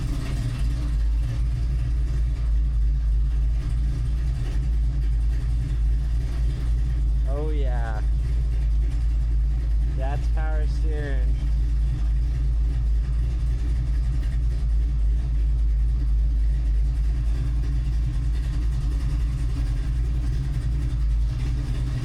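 Chevrolet Nova V8 engine idling steadily and loud throughout, a deep continuous low rumble with a couple of brief voice-like bursts partway through.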